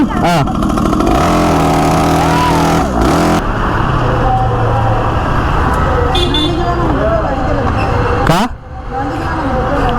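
A motorcycle engine is throttled up and down on a mountain ride to Marudhamalai, rising and falling loudly and close, with road traffic, a horn toot and voices around it.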